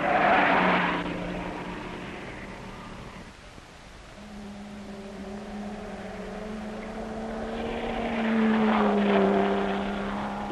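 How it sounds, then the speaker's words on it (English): Vintage race cars, including Austin A35s, Jaguars and a 1.5 Riley, run on a circuit. Engines roar loudly past at the start, a rising and falling drone continues, then another car swells in near the end. "the battle for the lead between Gerrard and Adams with their A35s continued unabated"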